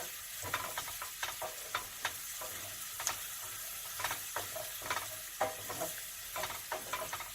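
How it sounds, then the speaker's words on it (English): Paprika sizzles in a pan while cooking for Spanish cod, a steady close frying hiss broken by irregular scraping stirs and clicks, with no talk. "I'm just going to cook the paprika out a little bit."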